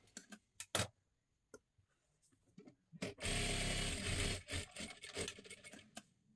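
A sewing machine stitches the hook strip onto a princess blouse: a few sharp handling clicks and ticks first, then a loud, close run of rapid stitching lasting over a second, followed by shorter stop-start bursts, with no talk.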